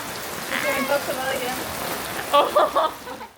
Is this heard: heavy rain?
yes